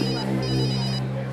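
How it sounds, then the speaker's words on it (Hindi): A phone ringtone rings steadily and loudly up close, a repeating electronic tone pattern filling the whole moment with no voices. "सर का फोन"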